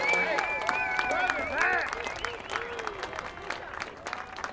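A crowd claps and applauds steadily, with voices and cheers mixed in near the start, the clapping fading slightly toward the end.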